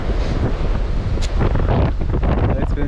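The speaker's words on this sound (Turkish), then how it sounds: "İnanılmaz bir rüzgar var." Strong wind roars and buffets the microphone steadily throughout, loud and close, with a low rushing rumble underneath.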